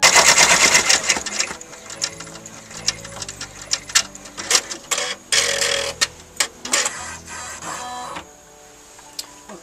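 An embroidery machine stitches a Mylar design, a loud, fast mechanical chatter of needle strokes with rhythmic ticking and whirring that slows into separate clicks and thumps before stopping.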